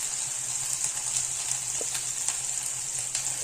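Potato chop spice mix with dried chilli powder fries in a pan, a steady close sizzle with faint crackles and occasional stirring taps, no voices.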